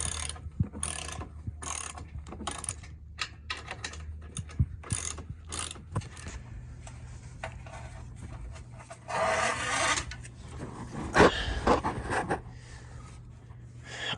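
A ratchet wrench drives screws while repairing a broken cable on a 1997 Rockwood Freedom pop-up trailer: rapid clicking pawl bursts in short runs, close and crisp, with scraping handling noise between strokes.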